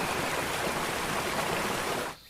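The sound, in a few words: water rushing in a Japanese forest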